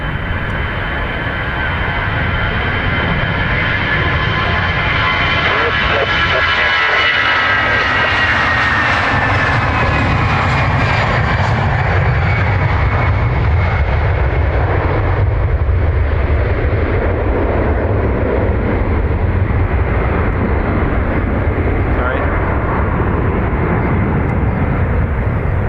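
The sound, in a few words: Aer Lingus jet airliner in Rugby paint scheme, Dublin Airport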